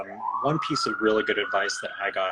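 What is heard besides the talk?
police siren passing outside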